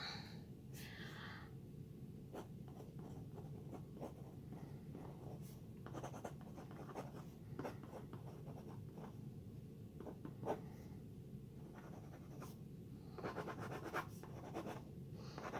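A Monograph mechanical pencil writes on paper with soft, irregular scratching strokes, close and quiet, in short bursts with brief pauses between them.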